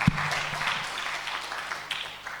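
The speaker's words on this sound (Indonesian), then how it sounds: "Sekali lagi tepuk tangan bagi Tuhan." A church congregation claps together in a soft, continuous round of applause heard at a distance, without speech over it.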